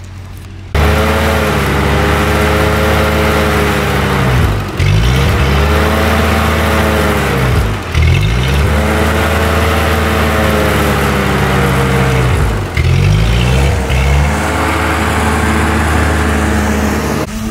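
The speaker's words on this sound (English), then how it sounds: "So, tractor needed to be run." A tractor engine runs loud and close while pulling out bushes on a homestead, a steady rumbling drone that rises and falls in load every few seconds, with no talking over it.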